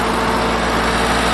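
A Ford 8N tractor engine runs loud and close at a steady idle after its carburetor has been cleaned, a continuous rough, throbbing drone with no gaps.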